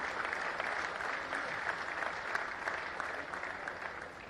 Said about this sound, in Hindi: इस हुनर के लिए तालियां बजाइए